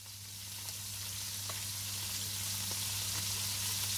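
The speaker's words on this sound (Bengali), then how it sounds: "এখানে মুরগির মাংস ভাজা হচ্ছে" Chicken pieces fry in oil in a pan on a home stove, giving a steady, close sizzling hiss with faint crackles, alone with no voices.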